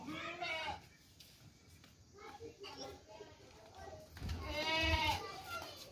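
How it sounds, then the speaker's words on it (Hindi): Goat bleats at a Pakistani livestock sale, the animal a plump two-toothed young goat; wavering bleats rise near the start and again louder toward the end, with people talking around them. "ये आप देख सकते हैं 2 दांत बकरी है, मोटी ताज़ी पट है।"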